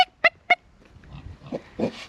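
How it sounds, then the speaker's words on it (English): Homestead pigs stampeding and oinking: three sharp, loud oinks in quick succession, then quieter scuffling grunts and snorts as the herd moves nearby. "Want to see a pig stampede?"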